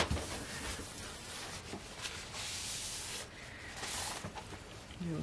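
A hanger swirl tool dragged through cold-process soap batter, a continuous close rubbing, scraping hiss with slight surges, moderately quiet with no talk.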